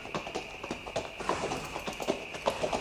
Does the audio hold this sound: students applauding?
no